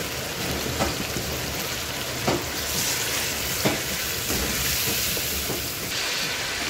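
Spice masala for fish biryani fries in a pan with a loud, dense, rain-like sizzle throughout, and faint spoon strokes come at intervals, close and with no talking.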